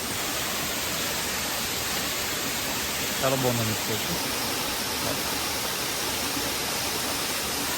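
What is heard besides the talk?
waterfall on the Agasthyarkoodam trek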